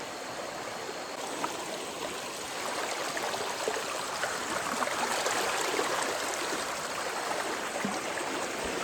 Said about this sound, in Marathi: बापरे पाण्याला स्पीड बघा काय आहे इकडे